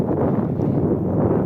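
Wind blowing steadily over a frozen river channel in overcast weather, a continuous low rumbling buffet against the microphone with no breaks, loud and close throughout.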